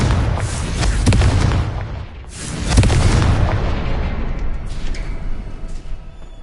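Spell blasts boom out in Hogwarts Legacy, two heavy explosive bursts each rolling into a long rumbling decay, followed by quieter crumbling debris and faint high chimes.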